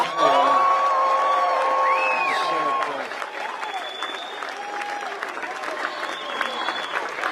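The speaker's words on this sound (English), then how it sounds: "give yourselves another round of applause for being out here" A large outdoor political rally crowd applauds and cheers, loud at first with whoops and shouts, then settling into steadier, softer clapping that carries on to the end.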